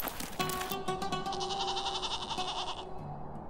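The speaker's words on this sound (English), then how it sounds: "The ibex, sometimes called the alpine ibex, is a free-range goat species indigenous to Europe's lofty alpine regions." An alpine ibex, a wild goat of Europe's high mountains, gives a few nasal bleats close by, followed by a longer drawn-out call.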